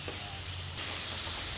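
Vegetables salted in a pan fry with a continuous soft hiss and sizzle that brightens partway through, close but quiet.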